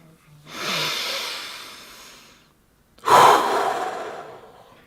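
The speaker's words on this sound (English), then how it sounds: "Inhale deeply into your lower belly, then exhale." Two deep, close breaths during a meditation exercise: a long airy inhale that slowly fades out, a brief silence, then a stronger exhale that trails off.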